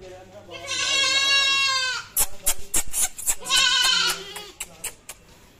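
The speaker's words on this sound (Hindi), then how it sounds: "बकरी बच्चों को खिलाओ भाई।" Goats and young kids bleat loudly at close range, two long wavering cries separated by a burst of short clattering sounds, with the second bleat trailing off into quiet.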